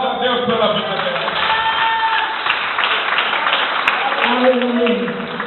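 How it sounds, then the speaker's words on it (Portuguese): A church congregation applauding God during a service, sustained dense clapping with some cheering and shouts from the crowd, steady and loud throughout. "Aplauda a Deus pela vida dela."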